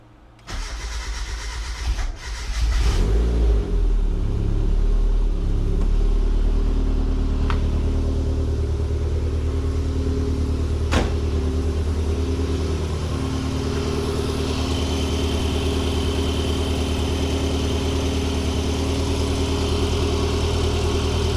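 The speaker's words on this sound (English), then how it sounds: "Let's see if it's louder than usual. It sounds like a straight pipe Miata." A turbocharged Mazda Miata engine cranks and starts, then settles into a loud, deep, rumbling idle with a raspy, straight-pipe-like exhaust, leaking between downpipe and manifold, that drones on steadily.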